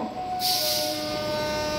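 A local train at Hooghly Ghat railway station, arriving and pulling out, gives a steady close rumble with a broad hiss that swells in after a moment and holds to the end.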